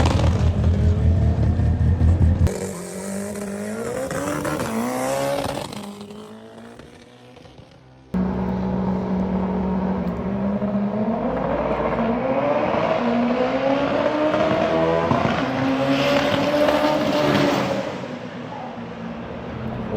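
A drag race car, a Mitsubishi Colt with a 4G63T turbo engine, revs hard with cylinders cutting out, rising and falling engine tones that drop briefly, then climb in a long loud run.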